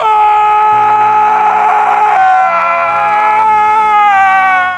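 A man lets out a long, loud, sustained yell, strained and tonal, shifting pitch midway and holding on for several seconds before cutting off.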